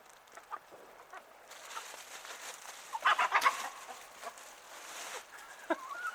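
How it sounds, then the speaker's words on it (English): Chickens cluck nearby in short bursts, with a busier flurry of clucks midway and quiet rustling between calls. "So I'm going to give it to the birds"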